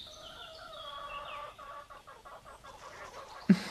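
Several chickens cluck and murmur close by in a series of rhythmic, drawn-out calls, fading into softer repeated clucks and ending with a sharp thump.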